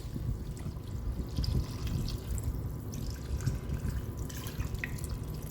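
Water runs and splashes steadily over chicken bones in a Ninja Foodi pot, a continuous low gurgling pour with small drips over it, close by.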